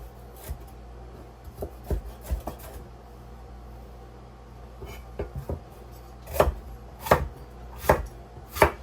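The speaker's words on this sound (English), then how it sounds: "I'm just roughly chopping it." A knife roughly chops sweet peppers into big chunks on a cutting board, with quiet, irregular taps that come in small clusters and grow into a few sharper, heavier thuds toward the end, with no talking.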